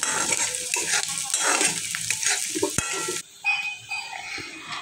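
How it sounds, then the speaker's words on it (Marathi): Onion frying in a pan for a Marathi home-cooking routine, a steady loud sizzle with scraping stir strokes throughout, then dropping quieter after a brief pause toward the end. "आता कांदा चांगला तळसून घेऊ. थोडासा लालसर होऊन देऊया."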